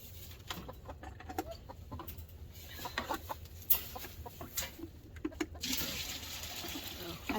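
Backyard chickens clucking during evening chores, short irregular clucks scattered through steady outdoor background noise, with a watery splash late on from refilling the chicken water.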